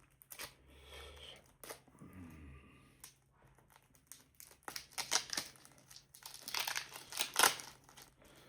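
A Naruto Kayou trading card pack wrapper crinkles and crackles up close in short, quiet bursts as it is torn open, with soft rustles and taps between the louder crinkles.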